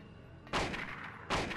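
Two loud gunshot blasts in the survival horror game Silent Hill, roughly a second apart, each a sharp burst followed by a decaying tail over a quiet background.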